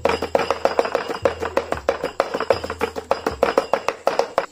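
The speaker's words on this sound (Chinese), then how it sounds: "这个肉要抓紧时间给它剁了腌上" Pork belly is chopped with a cleaver on a board into mince, rapid rhythmic thuds in quick bursts, loud and close, with no talk.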